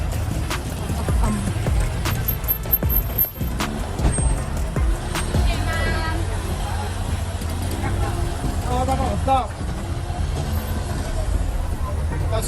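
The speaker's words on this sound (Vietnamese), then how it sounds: "Xe cộ đi lại, xe máy, xe ngựa" Busy Marrakech street traffic with motorbikes and horse carts, a continuous rumble of engines and passing vehicles with occasional higher revving and clatter, close and loud, with a voice talking over it.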